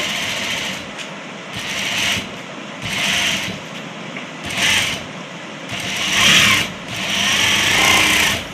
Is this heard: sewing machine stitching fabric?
yes